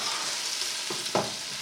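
Peppers frying in a hot pan for fajitas: a soft continuous sizzle with a couple of brief louder crackles near the end, close by and fairly quiet, with no voices.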